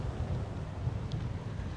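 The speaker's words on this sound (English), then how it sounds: "It's very windy." Strong wind buffets a microphone outdoors on a small homestead, a constant low rumbling roar with gusty fluctuations and no other clear sounds.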